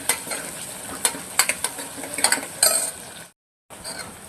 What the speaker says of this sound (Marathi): टोमॅटो दोन्ही एकत्र टाकून घेते आणि छान तेलामध्ये फ्राय करून घेते